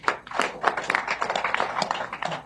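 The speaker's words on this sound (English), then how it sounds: "Another round of applause for him." Applause from a press audience after a Labour Party address following Nigeria's 2023 election, a steady patter of many hands clapping close by for a couple of seconds.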